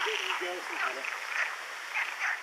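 Frogs croak in a pond in Morocco, a chorus of repeated throaty calls close by over a steady bed of insect-like buzzing and outdoor hiss, with faint voices in the background.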